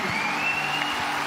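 A church congregation applauds during worship, steady broadband clapping filling the whole moment with a faint sustained tone beneath it.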